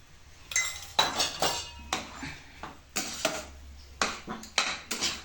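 A spoon stirs salt into a pot in a home kitchen, giving a series of sharp metallic clinks and scrapes against the pan, roughly one or two strokes per second, close and clear with no talk.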